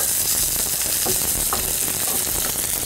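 Bell pepper strips hitting hot oil in a frying pan with onion during pasta cooking: a loud, steady, close sizzle with faint stirring ticks, no talking.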